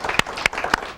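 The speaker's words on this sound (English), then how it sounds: "Let's give them a huge round of applause." A TV show audience applauds in a studio, a scattered run of claps with a few sharp louder hits over about a second, fairly thin and close rather than a big crowd roar.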